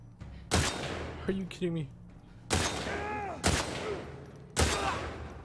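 Gunfire in The Last of Us Part II, four sharp, loud shots spaced about a second apart, with a voice speaking and reacting between them.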